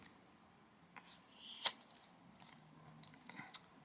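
Matte-finish art cards from a Censor limited edition two-disc Blu-ray box set are handled quietly. Soft rustles and a few light clicks and snaps rise now and then above a near-silent room.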